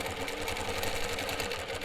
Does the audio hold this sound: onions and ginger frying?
no